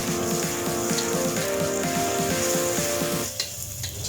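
Garlic and onion fry in oil in a pan for Filipino stir fry vegetable vermicelli noodles, a dense continuous sizzle with crackling pops, steady and close, fading slightly at the end.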